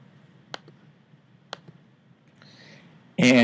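Two sharp mouse clicks on a computer, the first at about half a second and the second a second later, each with a faint double tick, over quiet room hum before a louder burst at the end.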